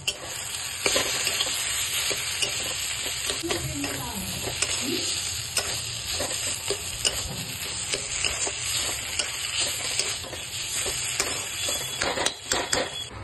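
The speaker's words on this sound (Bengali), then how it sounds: "এবার এটাকে একসঙ্গে নেড়ে একটু শক্ত করে নেব।" Vegetable chop mixture with salt and spices stirred and fried in a pan, a steady close sizzle broken by repeated scraping strokes of a spatula, with no voices.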